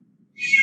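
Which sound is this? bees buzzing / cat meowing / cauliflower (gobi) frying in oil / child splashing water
cat meowing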